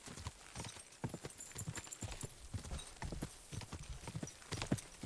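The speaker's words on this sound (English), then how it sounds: "going out in the middle of the wilderness on a horse is probably the wrong idea" Horse hooves clip-clop in a steady rhythm while riding through wilderness in Kingdom Come Deliverance 2, close and clear over a busy game soundscape, with no one talking.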